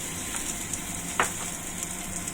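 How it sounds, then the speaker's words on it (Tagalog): Ginger and garlic sauté in a pan for squid adobo, giving a close, steady sizzle with a few light stirring clicks and one sharper scrape. "Ayan, gisa lang natin to."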